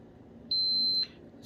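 A blood glucose testing meter gives one clear, loud, high-pitched electronic beep lasting about half a second after a blood droplet is applied, set against a quiet room hum.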